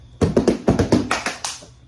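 A group performs body percussion in a steady bump, bump, clap pattern: about seven sharp, close hand strikes and body thumps in an even rhythm, with no voices.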